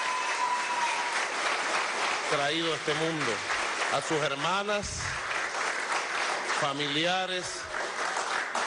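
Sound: audience applause

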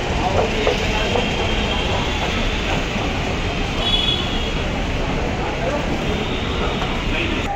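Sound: metro train arriving at station

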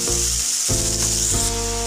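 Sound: washed cabbage added to hot spices, sizzling in pan

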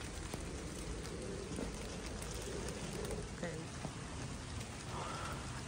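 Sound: rain falling

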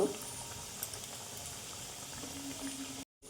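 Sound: food frying in hot oil

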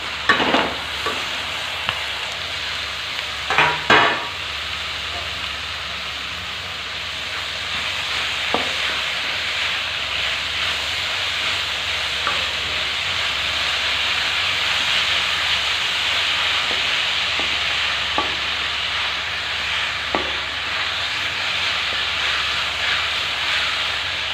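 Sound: paneer bhurji being roasted in a pan

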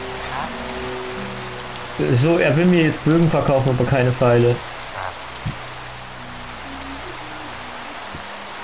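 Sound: rain falling in Minecraft video game

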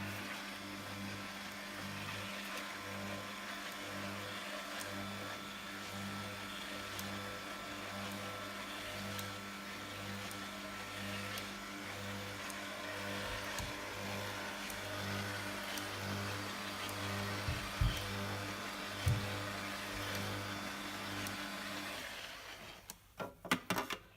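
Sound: Hurom One Stop slow juicer running

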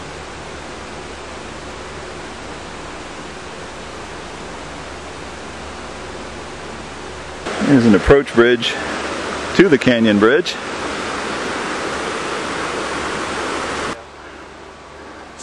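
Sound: rushing water of a branch of the Sable River

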